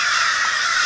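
A crow caws loudly and close by outdoors in open countryside, one sustained harsh call that fills the clip with no talk.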